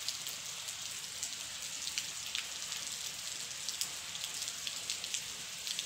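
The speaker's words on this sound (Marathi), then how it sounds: "सकाळ सकाळ बघा मोठा असा पाऊस आणि चालू झालाय" Heavy morning rain falls steadily outdoors with a constant hiss and dense patter on surfaces, faint and even throughout, with no voices.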